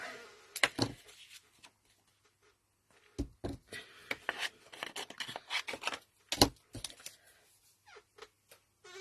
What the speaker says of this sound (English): So if I get my snips, there we go.